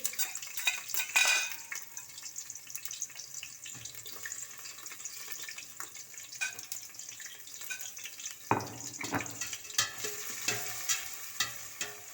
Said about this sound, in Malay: Serai pun kita masukkan ya untuk menggoreng.